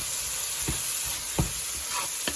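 Banana flower biryani ingredients with coriander and mint sautéing in a pan, a continuous sizzle broken by three distinct scraping stirs of a spatula, close and fairly quiet, no talking.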